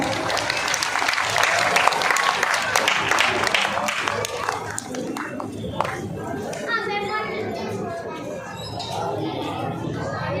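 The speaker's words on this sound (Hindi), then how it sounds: "कृपया इनके सम्मान में जोरदार तालियां बजाएंगे।" Audience at a Suheldev Rajbhar Jayanti community gathering in Chhattisgarh applauds to honour guests, a dense burst of clapping that gives way to chatter and children's voices.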